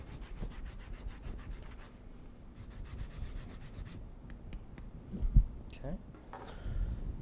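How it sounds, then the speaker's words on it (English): Lemon peel being zested over food in a kitchen, a soft dry rasping and rubbing that comes in short scraping strokes, close by and fairly quiet. "All we're going to do is we're going to zest lemon."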